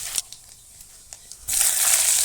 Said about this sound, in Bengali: তারপর তেল গরম করে দিয়ে দিচ্ছি অল্প একটু কালো জিরে